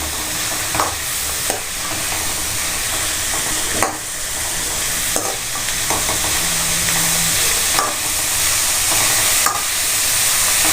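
Vegetable fried rice sizzles loudly and steadily in a pan while being stirred. Scraping clinks from the utensil recur every second or so over the constant frying hiss, with no voices.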